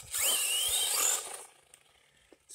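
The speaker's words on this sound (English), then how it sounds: "Shows you the efficiency of the brushless motors." A brushless-motor RC car on a 2S battery shrieks with a loud, rising high-pitched whine for about a second as it accelerates, then cuts off and fades to near silence with a few faint knocks.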